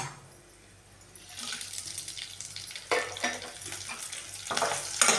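Green and dried red chillies drop into hot oil in a pan, and a quiet start gives way to a rising, crackling sizzle, close and steady, with sharper spits and stirring clinks near the end.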